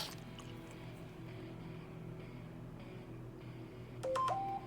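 A phone emits a short burst of beeping dial tones near the end, following several seconds of quiet room hum.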